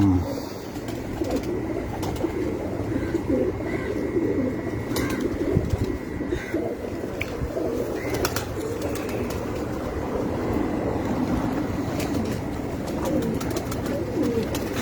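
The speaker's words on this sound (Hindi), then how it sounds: "ये भी बहुत अच्छा कबूतर है" Rooftop pigeons coo in a continuous close murmur, with occasional wing flaps and scuffles breaking through a busy outdoor background.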